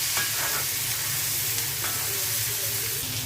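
Eggplant and potato pieces fry with spices over onions, giving a loud, even hissing sizzle with soft stirring knocks, close up and uninterrupted by voices.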